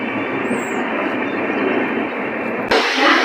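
A train arriving at Panvel railway station rumbles steadily with a broad, continuous roar of wheels on rails, close and loud, growing slightly louder near the end.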